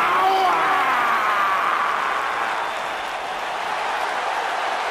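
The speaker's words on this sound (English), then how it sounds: "Clap for your longest reigning tag champs and feel the power." Loud crowd applause and cheering fill a wrestling arena in the WWE 2K19 video game on Xbox One, a steady dense roar of clapping during a Kofi Kingston versus Sami Zayn match entrance.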